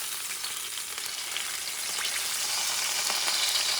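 Sirloin steak fat sizzling on a stove grill, a dense steady hiss that builds slightly louder over a few seconds, close and unbroken, with no speech.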